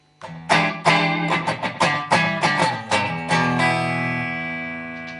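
Clean Stratocaster electric guitar with the distortion pedal switched off: a series of strummed chords and picked notes, several sharp attacks, the last chord left ringing out and decaying alone.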